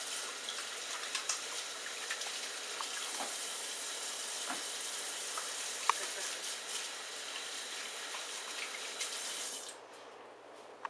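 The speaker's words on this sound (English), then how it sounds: "Remember to wash your hands in between." Steady rush of tap water running into a kitchen sink as hands are washed between cooking steps, a broad continuous hiss with faint splashes that cuts off near the end.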